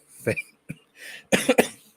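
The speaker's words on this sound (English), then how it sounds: "I got a bit of a cough tonight" A few short, sharp coughs come in a quick cluster, close and fairly quiet, with brief pauses between them.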